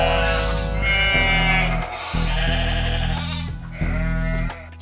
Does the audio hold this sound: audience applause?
no